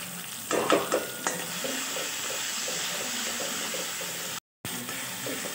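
Spiced pav bhaji mixture with tomato, salt and turmeric stirred and frying in a pan, giving a steady close sizzle with a few louder scraping stirs near the start and a brief dropout near the end.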